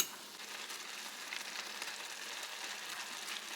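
Soft, steady bubbling and hissing of water boiling in a saucepan for ramen, quiet and close, with no voices.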